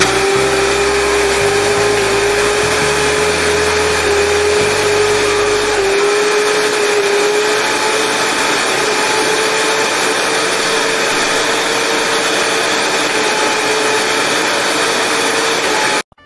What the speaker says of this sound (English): we're gonna put it in the blender, and then we're gonna add the coconut water